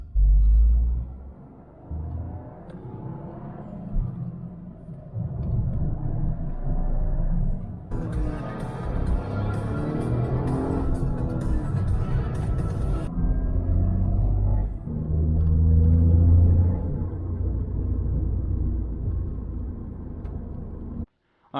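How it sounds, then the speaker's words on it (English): A Toyota GR Corolla on aftermarket PERRIN wheels drives along the road, its engine and tyre noise a deep steady rumble inside the cabin that surges in loudness partway through, with no talk. "I'm gonna go for a few mile drive and then just retorque my wheels."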